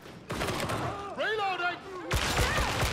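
Gunfire in Warhammer 40,000: Darktide: two loud, dense bursts of rapid shots, the second heavier and closer, with a voice and game chatter in between.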